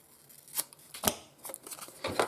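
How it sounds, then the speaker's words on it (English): Scissors trim paper for a craft project in a few short, crisp snips spaced irregularly, close and fairly quiet, with no talking. "Let's just trim it down a bit."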